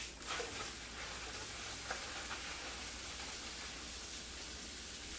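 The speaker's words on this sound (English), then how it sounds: "We're going to pop it right in our pan. And we are going to cook the shrimp." Shrimp cooking in butter in a pan give off a steady, dense sizzle and crackle that holds at an even level throughout, with no talking.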